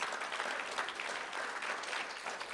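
A round of applause fills a school district board of trustees meeting, a steady wash of many hands clapping at moderate, even loudness throughout with no voices over it.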